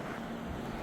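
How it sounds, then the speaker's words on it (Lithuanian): Waves breaking at Coral Bay, Malta, on a day of big swell: a steady, broad surf roar with wind noise, continuous and fairly loud, no speech. "Bet bangos šiandien tai labai nemažas"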